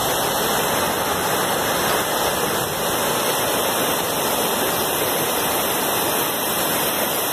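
Floodwater rushes loudly through a street during heavy rain in Campina Grande, a dense, steady roar of water close by that holds for the whole stretch, with no talking over it.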